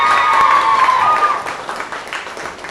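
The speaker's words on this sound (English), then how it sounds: "I think a big round of applause for Sylvia and her girls" An audience applauds after a Christmas disco dance show, a room full of clapping with a few high cheers and whistles early on, fading slightly toward the end.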